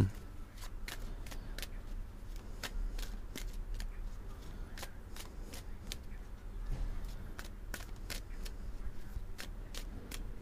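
Oracle cards are riffled and cut at close range, giving a string of quick papery flicks and snaps in an irregular rhythm over a low background rumble.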